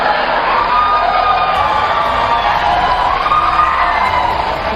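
Audience at a 2016 presidential debate between Donald Trump and Hillary Clinton breaks into loud, sustained cheering and applause, a dense, steady roar of crowd noise throughout.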